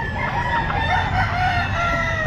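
A young stag rooster at a pet market crows in a steady drawn-out call, close and loud, filling the short moment without any talking.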